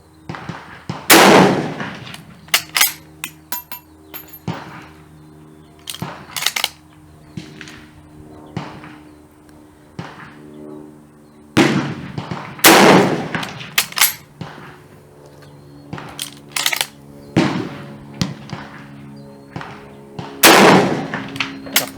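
Sharp, loud rifle reports from a French Berthier carbine in 8mm Lebel, fired outdoors. Several spaced shots ring out, each followed by a decaying echo, with fainter clicks and bolt handling between them.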